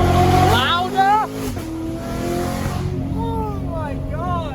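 A Corvette with a loud modified exhaust revs in two rising sweeps, the engine climbing and falling close by, with voices in the car between the pulls.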